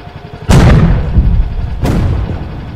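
A tank fires in the Henry Stickmin Collection video game, two loud booming blasts about a second and a half apart, each with a heavy rumbling tail and no talking.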